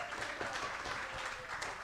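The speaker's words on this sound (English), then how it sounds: "Come on, have a round of applause for this guy." A studio audience at a Green Bay Packers clubhouse live show breaks into a brief burst of steady clapping, fairly faint and even throughout.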